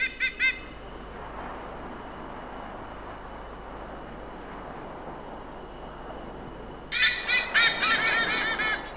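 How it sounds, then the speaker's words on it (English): A resident pair of eagles gives warning calls against an intruding eagle, with a short burst of sharp calls at the start and a louder, rapid series of repeated cries near the end over a quiet background. "The resident pair calls out a warning."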